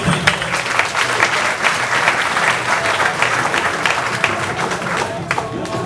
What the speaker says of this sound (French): Je profite de cette occasion d'applaudir très très fort pour M. le Président.